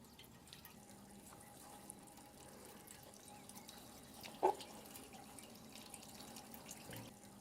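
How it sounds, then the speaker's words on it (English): Water from a garden hose trickling through newly fitted gutters on a farmhouse, a faint, steady running flow with a single brief splash or drip standing out midway. "I threw the garden hose up to see how it would deal with some water."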